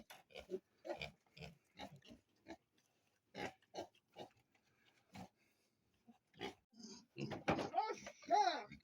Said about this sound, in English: these are the piglets right here